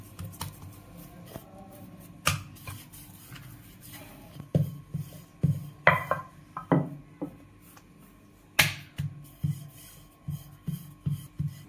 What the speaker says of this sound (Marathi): आपल्याला हे आता लाटून घेऊया